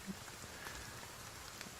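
Rain sound effect during a tabletop game session, a steady soft wash of falling rain with faint patter, quiet and continuous with no talk over it.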